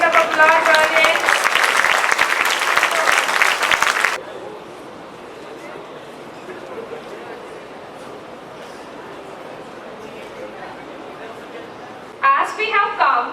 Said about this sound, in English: give them a big round of applause, audience